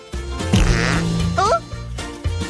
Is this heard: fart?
yes